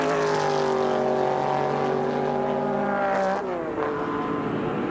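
A loud, sustained Mustang race car engine roar with a rising then falling pitch as the car passes close, steady and unbroken, at Gimli Motorsport Park in 1982.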